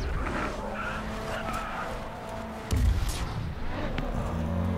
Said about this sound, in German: Und zieh sofort die Handbremse, um in den Drift zu kommen.